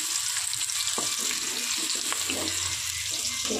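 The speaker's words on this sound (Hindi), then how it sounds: "देखिए गैस अच्छे से प्याज को भून लेना" Sliced onions fry in hot oil in a pan on a gas stove, giving a steady, close hiss and sizzle that lasts throughout with no one talking.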